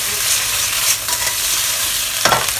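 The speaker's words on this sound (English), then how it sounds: "Now while doing this, we can add in our garlic, 4 cloves of garlic chop. And we'll do a flip to the other side." Shrimp and four chopped garlic cloves stir-fry in hot oil with a loud, constant sizzle right up close. A few scraping stirs and a brief clatter come as the prawns are flipped, with no talking.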